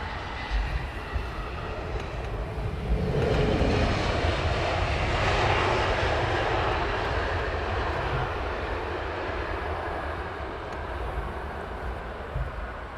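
An airliner in Saudi Arabian livery arrives on Heathrow runway 27R, its engine roar building to a loud, sustained rumble as it passes, then easing into a steady wash of noise, with no talking.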